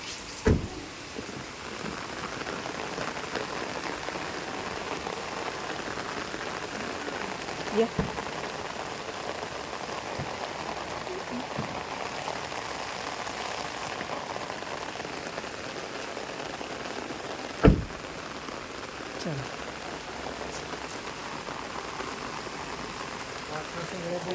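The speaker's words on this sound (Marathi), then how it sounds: "कसला पाऊस बघा कसा पाऊस चालू आहे" Heavy rain drums steadily on a surface for a long stretch, with a few sharp knocks and clicks close by. Voices are faint under the downpour.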